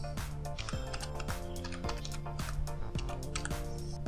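Fingers type on a computer keyboard in a quick run of close, light key clicks, with a faint music bed underneath.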